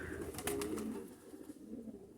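Soft cooing of domestic pigeons close by, a few low throaty coos over quiet outdoor background.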